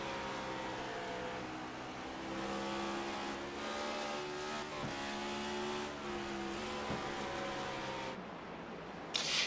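Race car engine held at full throttle in a sim racing game at Bristol, a loud continuous high-revving drone with rising and falling harmonics, brief shifts and dips, and a short drop in intensity near the end.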